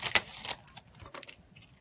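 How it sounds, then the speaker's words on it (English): A new stencil slides out of a package slit open across the top, giving brief crinkly rustles and a scrape of thin plastic, close by and fairly soft. "I'm going to pull that stencil out"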